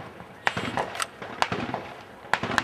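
Several sharp handgun shots fired at a training range, three main reports at irregular intervals with smaller follow-up pops, loud and close with echo tails and faint talk in between.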